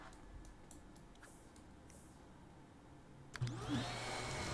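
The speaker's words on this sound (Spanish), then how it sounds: "ya puedo dar clic en el polvo y me dice aspirar aquí. Entonces vamos a aspirar aquí" A vacuum cleaner sucks up dust in The Sims 4, its whine starting abruptly and running steadily near and moderately loud after a stretch of quiet game ambience with a few soft ticks.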